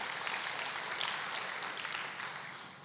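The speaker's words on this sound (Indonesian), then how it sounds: "Berikan tepuk tangan buat Tuhan Yesus." A church congregation applauds during a sermon, a dense, steady wash of clapping that fades slightly toward the end, heard from some distance with no speech over it.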